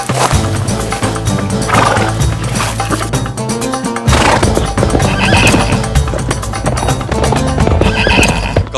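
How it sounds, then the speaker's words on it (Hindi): Arabian horses whinny loudly and their hooves clop in quick rhythmic beats, layered over dramatic background music with a sharp break partway through. "काबुल से अरबी घोड़े मंगवा लिए?"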